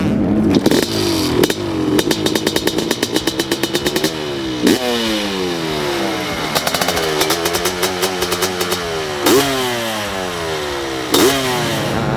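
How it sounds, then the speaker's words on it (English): A 2023 Honda CR500 two-stroke dirt bike engine revs hard in repeated bursts, rising and falling with sharp throttle blips, loud and close throughout. "This is the CR500 two-stroke"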